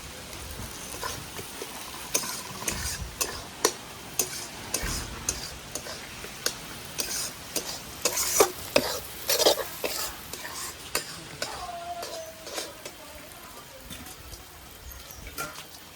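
Chopped tomatoes and spices frying in a wok for chicken curry, with a soft sizzle under frequent sharp ticks and clacks of a spatula against the pan, close up and fairly busy throughout.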